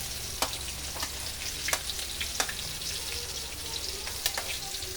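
Onions fry in a pan for a ginataang sitaw dish, a soft continuous sizzle marked by sharp intermittent ticks of spatula on metal, close and unaccompanied by talk.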